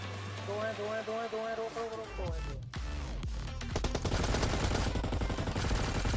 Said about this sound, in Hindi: साइड से भैया गोलियों की आवाज आती है